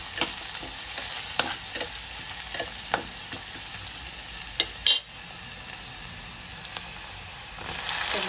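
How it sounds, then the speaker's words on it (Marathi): Onion and bay leaf sauté in a pan, a constant close sizzle broken by stirring scrapes and clatters, with a brief louder clank midway. "तमालपत्र, व्यवस्थित परतून घ्यायचा कांदा वगैरे।"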